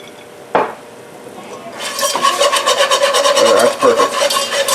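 Roux of fat and flour with added olive oil, scraped and stirred in a pan, one sharp knock followed by a loud, rhythmic rasping and bubbling sizzle that continues to the end.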